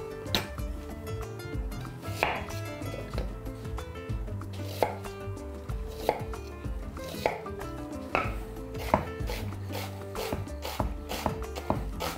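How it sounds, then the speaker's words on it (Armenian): A knife finely chops two small onions on a board: rapid, even, close-up taps in a steady rhythm with light scraping between strokes. "Երկու փոքր գլուխ սոխը մանր կտրատում ենք։"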